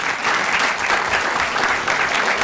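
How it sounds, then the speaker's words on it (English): Steady applause from an audience at a city council meeting, a dense, even wash of many hands clapping at constant loudness with no talk over it. "I'll give him a round of applause."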